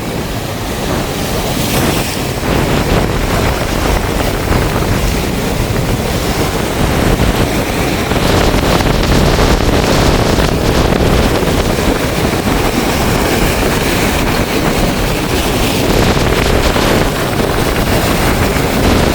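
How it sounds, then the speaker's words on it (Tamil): Storm-driven waves crash and surge against the shore in Jaffna, a loud, continuous roar of surf with heavy wind buffeting the microphone throughout. "இங்கே பாரு பயங்கரமான ஆக்ரோஷமாக வந்து அடிச்சு நிற்குது அலையெல்லாம்"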